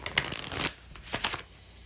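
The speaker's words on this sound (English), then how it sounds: "That was a horrible shuffle." Playing cards are shuffled in two quick riffling bursts, close and crisp, with a short pause between them.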